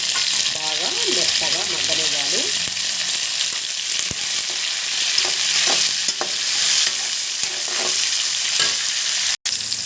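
Browned onions and chopped tomatoes frying in a pan for upma, a loud continuous sizzle with scattered scraping stirs and light clinks, close and steady.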